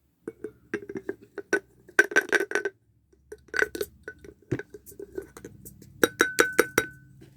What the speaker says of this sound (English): 1/3 cup going in my glass jar.